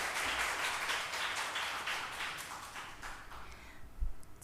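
A church congregation claps to welcome a deacon to the front, a moderate, fairly distant patter of hands that thins out and fades, with a soft thump near the end.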